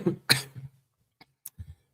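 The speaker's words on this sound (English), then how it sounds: "bad cough because I was out in the cold" A single harsh cough, followed by a couple of softer throaty coughs and a small click in a quiet room.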